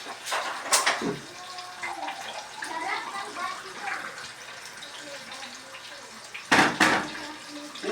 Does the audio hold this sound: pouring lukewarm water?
yes